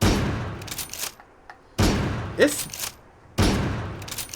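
An American Rifle mod fires in Fallout 4, three loud rifle shots spaced about a second and a half apart, each a sharp crack with a short ringing tail, and a brief game sound between them.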